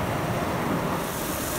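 Powerful air dryers in a LaserWash 360 car wash roar steadily at close range, a constant rushing whoosh with no pauses.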